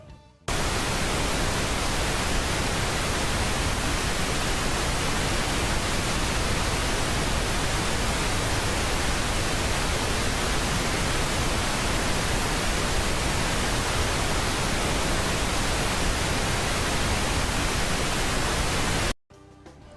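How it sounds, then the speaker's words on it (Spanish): A pink noise test signal plays in a room for an electroacoustics class, a loud, dense, unchanging hiss that starts abruptly and cuts off just as sharply near the end. "Vamos a encender el ruido rosa."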